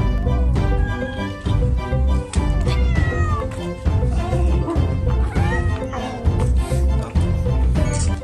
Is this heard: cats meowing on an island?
yes